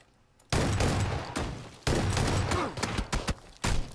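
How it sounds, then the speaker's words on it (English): A Saiga shotgun in a video game fires several heavy, close shots in quick succession, with sharp booming blasts broken by brief gaps and some softer clatter between them. "Two point-blank Saiga shots to the guy."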